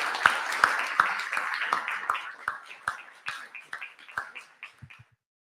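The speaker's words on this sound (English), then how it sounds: "Another round of applause for the panel" Audience applauding a panel at an evening AI talk event, a round of clapping that starts strong, thins out gradually and stops near the end.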